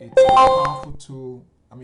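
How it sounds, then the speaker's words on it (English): Computer trading software indicator alerts sound as a few short electronic chime tones, loud at first, with someone talking over them and after them. "Those that alarm or those noises you are hearing there are my indicators going."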